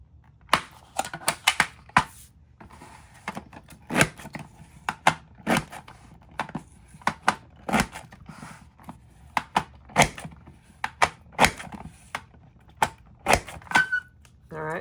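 A craft border punch cuts a picket-fence pattern along patterned paper, a series of sharp, close clacking punches at an irregular rhythm with short quiet gaps between them.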